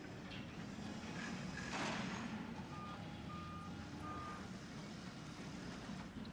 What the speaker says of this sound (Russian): Вон едет наш джип.